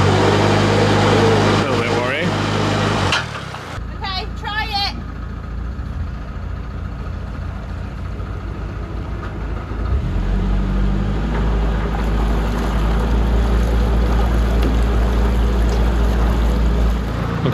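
A loud boat engine rumbles steadily throughout with a deep, throbbing drone while towing a stuck narrowboat free, briefly broken by a clatter near the start before settling into constant idling and churning.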